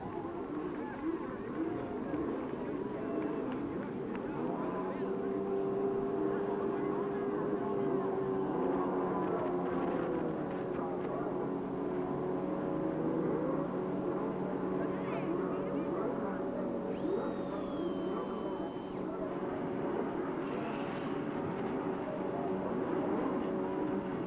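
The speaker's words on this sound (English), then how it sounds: "Gentlemen, start your engines." Indy car engines at Road America in Elkhart Lake for the 1990 CART race, a dense sustained roar of many cars idling and droning together at a distance, with an announcer speaking over the noise.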